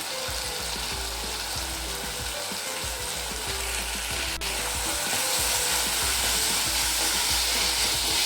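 Turmeric and coriander powder fry in a pan for a bottle gourd gravy, giving a loud, continuous close sizzle with dense crackling and occasional stirring scrapes, steady throughout and slightly louder toward the end, with no voices.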